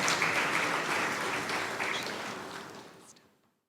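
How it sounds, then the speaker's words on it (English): An awards ceremony audience applauds the presentation party taking the stage, a full, even roar of clapping that holds steady and then fades away to silence. "let's put our hands together and give our presentation party a round of applause"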